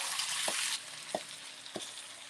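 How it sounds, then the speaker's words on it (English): Boneless, skinless chicken breast pieces with marinade sizzle steadily in a hot pan for Kung Pao chicken, a loud continuous frying hiss with three soft stirring knocks as the pieces are moved around. "Yeah, you want that sizzle,"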